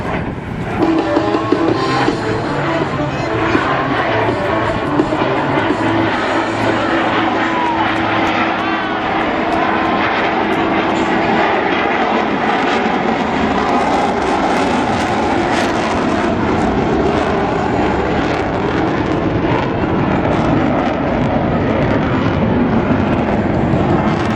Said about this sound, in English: They will pass before you, virtually standing Blue Angels 5 and 6 on their tails.